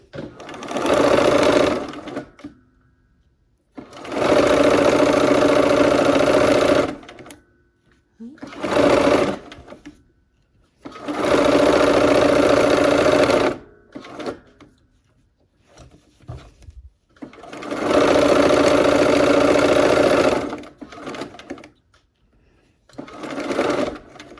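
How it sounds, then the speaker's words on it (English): Sewing machine stitching a seam, loud steady whirring runs of several seconds each with short stops and quieter handling sounds between them, close up. "let's go ahead and sew this last seam"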